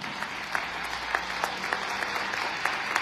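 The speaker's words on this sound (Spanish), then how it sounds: "Démosle un fuerte aplauso a la palabra de Dios." A church congregation at a Mass gives a brief round of applause, many hands clapping in a dense patter with a few sharper claps standing out.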